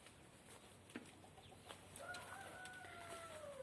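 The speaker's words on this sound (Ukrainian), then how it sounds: "А, бачите, курчатка бігають, по всьому городі бігають." A rooster crows faintly in the distance amid quiet outdoor garden background noise in Kryvyi Rih, with a few soft clucks from chicks and scattered small sounds.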